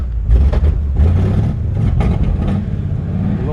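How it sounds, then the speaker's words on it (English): Exhaust of a 1956 Ford F100 pickup truck revving, a loud, close, deep engine rumble with a few surging throttle blips over a steady idle. "It's got a great sounding exhaust."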